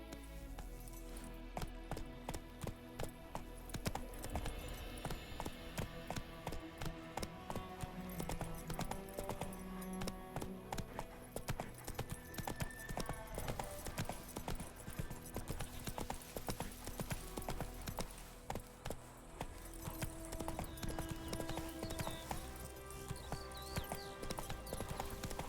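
Horse hooves galloping in The Witcher 3 on PS5, a steady rapid clip-clop running throughout over game music and ambient sound, with no talk.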